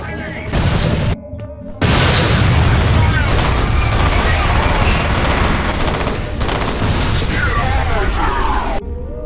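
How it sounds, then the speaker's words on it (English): Repeated explosions and heavy gunfire in the first-person shooter F.E.A.R., loud and dense booms and bursts filling nearly the whole stretch with only brief gaps, while a player shouts over the game action. "Kaboom. Kaboom."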